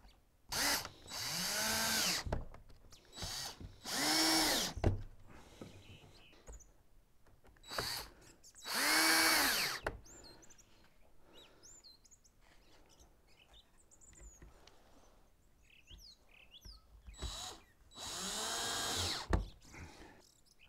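A power drill drives screws into a wooden frame for a passive solar cloche, several loud whirring bursts of a few seconds each with pauses between, and faint birdsong in the gaps.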